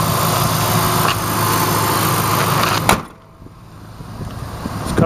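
A 2008 Dodge Ram's 4.7 liter V8 engine idles smoothly and quietly up close, a steady low hum interrupted by a sharp knock and a brief dip before the drone returns.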